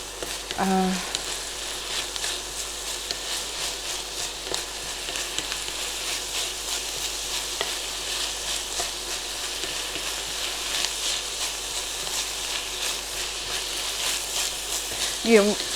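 Onions sizzle steadily in a pan, softening without browning, a continuous hiss of frying with faint stirring clicks in a home kitchen.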